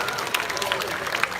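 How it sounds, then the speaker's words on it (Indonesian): Audience applause at the live opening of the PKB 2022 Bali Arts Festival at Ardha Candra Art Center, an even, sustained spatter of many hands filling the space with a busy crowd texture. "Tepuk tangan untuk masyarakat Bali."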